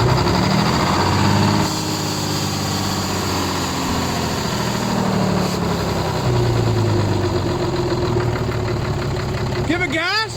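A big rig truck engine cold starting and then idling, a steady low diesel rumble that runs throughout, changing slightly in pitch as the engine settles.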